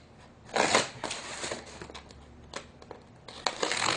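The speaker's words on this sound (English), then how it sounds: "I'm going to take this and cut the tape off." Tape being cut and pulled off a satellite dish with curved flat panels: a few close, scraping and crinkling bursts with short pauses between, loud then fading, and no talking.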